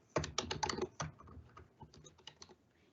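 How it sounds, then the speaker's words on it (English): Fingers type quickly on a computer keyboard, a close, quiet run of crisp key clicks that starts fast and slows to scattered taps toward the end, with no talking. "if you just type in www.office.com."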